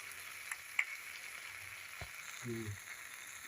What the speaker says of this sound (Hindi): अब इसमें मैं खोया डालूँगी